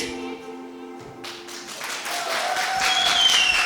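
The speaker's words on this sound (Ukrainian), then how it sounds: "Ваші аплодисменти дружечкам красуням за такий гарний авторський авторський підхід до написання тексту" Wedding guests break into applause for the bridesmaids, a burst of many hands clapping that swells and carries on steadily, with a few faint voices and whistles mixed in.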